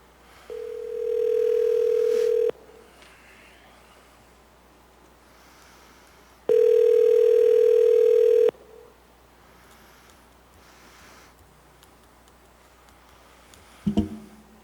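A telephone dial tone plays during a town hall phone call, two steady two-second tones separated by several seconds of quiet, followed by a brief click near the end.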